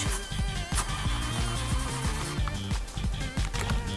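Car engine in the BeamNG.drive driving game cranking over and over without catching, a steady rhythmic low chugging that runs throughout at fairly loud level.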